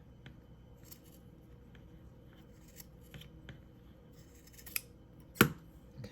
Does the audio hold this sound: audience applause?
no